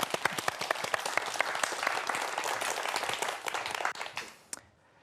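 Dense applause from a lecture audience welcoming a speaker for a talk on whether dinosaurs went extinct, steady crisp clapping that tapers off and ends near the close.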